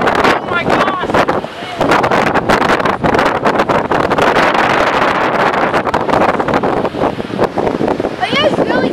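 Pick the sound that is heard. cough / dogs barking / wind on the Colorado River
wind on the Colorado River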